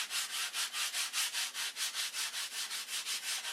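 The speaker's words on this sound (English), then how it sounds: "I'm only doing this demonstration on the sanding" Rhythmic back-and-forth hand sanding, roughly twenty even strokes in steady cadence, close and clear with no talking.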